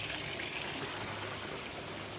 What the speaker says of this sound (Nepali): यता ढुङ्गा मुनिबाट हेर न साथी हो पानी आएको